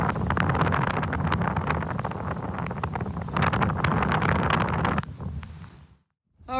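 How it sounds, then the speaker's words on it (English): Wind blows at a boat mooring out on open water, a steady rushing buffet across the microphone that drops away abruptly near the end. "So it's going to be a bit windier out here"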